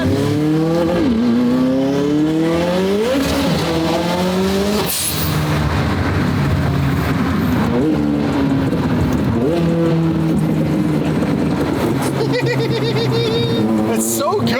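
A 1300 wheel-horsepower McLaren 720 GTR drives hard, its engine loud and close as it climbs and drops through several gear changes over about fifteen seconds, with wind and road roar throughout.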